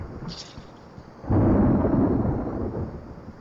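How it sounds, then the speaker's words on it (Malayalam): Thunder in the video game GTA 4: after a quiet stretch, a sudden deep rumbling crack breaks out and rolls on, slowly fading over a couple of seconds. "ഇടിയൊക്കെ വരുന്നത് സീൻ"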